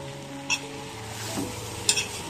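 Paprika is stirred into minced meat in a frying pan, with a soft continuous sizzle and two brief scraping strokes of the spoon, close and quiet.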